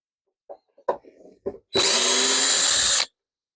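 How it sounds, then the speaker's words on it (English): Power drill driving screws with a screwdriver bit in a woodshop, a few light handling clicks followed by a loud, steady whir of the drill running for over a second. "this screwdriver bit sucks. Screws keep binding to it."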